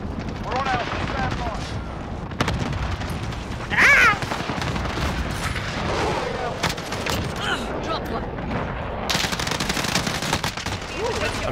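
Gunfire in the video game Call of Duty: Modern Warfare, repeated shots and explosive bursts across a noisy firefight, with a player talking over the action.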